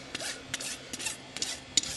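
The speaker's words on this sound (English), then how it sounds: "put my rasp on there, and what we want that to be is flat" A farrier's rasp files a horse's hoof flat during a full shoeing on a barrel horse, giving repeated close rasping strokes, each a bright scratchy burst, in a steady rhythm about every half second.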